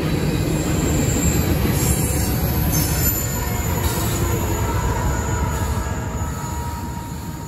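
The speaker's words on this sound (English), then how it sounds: "that was a CSX coal train with empty cars" A CSX coal train of empty cars rolls past close by, a steady loud rumble of wheels on rail with squealing flanges and a high metallic whine throughout, no voices.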